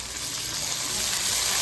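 Ginger garlic paste frying in a pan for a crab curry, a dense, even hiss of sizzling oil, loud and close, with no voices.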